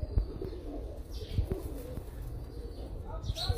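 Low, soft pigeon cooing repeats through the clip, with faint chirps and bird activity in the background.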